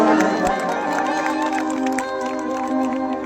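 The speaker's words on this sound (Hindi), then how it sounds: "मैं चाहूंगा कि जोरदार ताली बजा के आप लोग सम्मान करें हमारे" An audience at an outdoor Bhojpuri stage show in a village gathering claps in a steady patter of crowd applause, mixed under sustained loud music.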